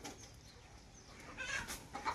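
Chickens on a poultry farm cluck in short, soft bursts against a quiet background, with a couple of clucks standing out near the end.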